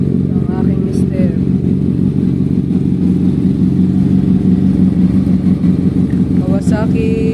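A Kawasaki 650 motorcycle engine idles and rumbles close by in a steady, loud drone, with a voice speaking over it.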